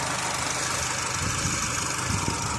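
A red Honda Civic Type R FN2 with a K20 Z4 engine and about 246,000 on the clock idles steadily, a smooth even mechanical drone heard close up without any voices.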